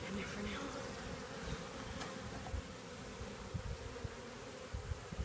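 A honeybee swarm buzzes steadily and densely while beekeepers catch it, a constant near drone with occasional louder passes close by.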